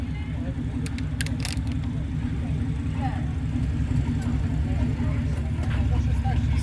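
A Tarpan car's engine runs loud and close, a continuous low rumble, with a few sharp metallic clicks early on.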